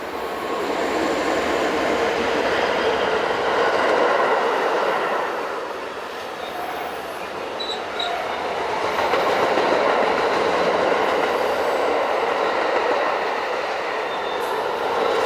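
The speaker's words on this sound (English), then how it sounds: "This is the same loco on the climb to Art Goldau" A Swiss Re 6/6 (Class 620) electric locomotive hauls a train uphill on the climb to Arth-Goldau near Steinen, a loud rolling rush of wheels and motors that dips briefly mid-pass before swelling again, with faint squeals and no speech.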